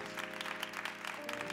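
A young adults' congregation at a church worship service claps softly to bless a couple, the steady patter of hands sitting over sustained musical tones in the background.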